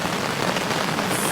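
Rain falls on a campsite, a close, steady patter of drops hitting surfaces in a dense, even wash with no talk.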